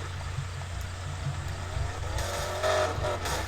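Car engine humming and revving during a race in a video game, a steady low drone with a rising whine near the end and no talking.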